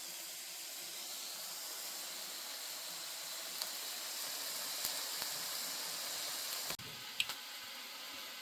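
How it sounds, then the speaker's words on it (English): Steady soft hissing and sizzling of chicken frying in a pan as water boils off, with a few faint clicks and a brief clatter near the end. "Just let this water boil off and do a little more frying."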